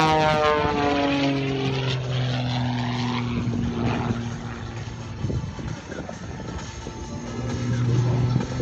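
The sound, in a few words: propeller aircraft performing aerobatic snap roll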